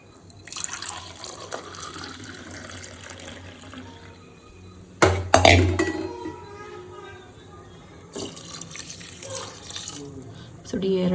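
Water is poured into a pot of coconut milk drawn from grated coconut, ready for cooking rice; a close, steady liquid flow with a louder splashing burst midway and another near the end.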